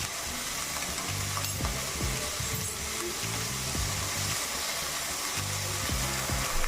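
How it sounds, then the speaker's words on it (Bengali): Spices and ginger paste frying in a pan over a gas flame, a steady close sizzle with scraping stir strokes and soft clinks throughout, no talking. "গ্যাসের ফ্লেম একটু আস্তে করে এটা একটু ভাজবে।"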